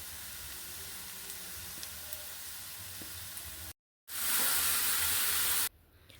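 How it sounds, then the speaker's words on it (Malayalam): Chopped lime sautés in hot oil in a pan with a steady, close sizzle. After a brief cut, the sizzle returns as a louder, brighter hiss that then drops away, with no talking. "അരിഞ്ഞു വെച്ചിരിക്കുന്ന നാരങ്ങ വഴറ്റിയെടുക്കാം"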